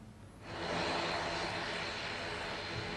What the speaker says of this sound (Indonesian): Rombongan kepresidenan tiba di Bener Meriah dengan menggunakan pesawat CN-295 milik Angkatan Udara